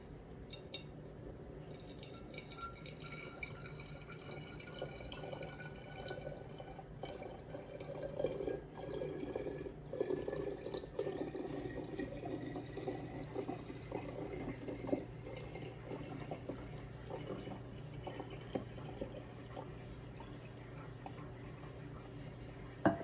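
Homemade elderberry syrup poured without a funnel into an old maple syrup bottle, giving a soft, steady trickle and gurgle of thick liquid nearby, quiet and continuous with no talk.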